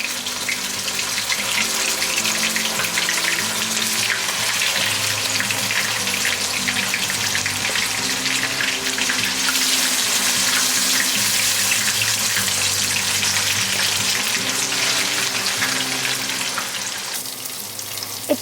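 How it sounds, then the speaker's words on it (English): Marinated snakehead fish pieces fry in smoky-hot mustard oil, a loud continuous crackling sizzle close up that holds steady throughout before easing slightly near the end, with no voices. "add all the marinated fish pieces and fry them until a nice golden"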